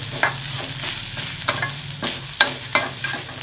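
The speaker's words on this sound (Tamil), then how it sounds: "தேங்காய் எண்ணெயில் தேங்காய் போட்டு வணக்கிட்டு இருக்குப்பா" Grated coconut frying in coconut oil for a Kerala-style chicken curry, a low sizzle punctuated by a regular series of sharp spoon scrapes and stirs against the pan, close up.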